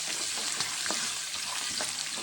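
Tempering spices and curry leaves sizzle in hot oil for Telangana-style puli gora, an even close hiss with a few soft pops and stirring scrapes, no voices.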